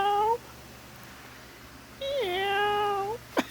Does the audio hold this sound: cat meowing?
yes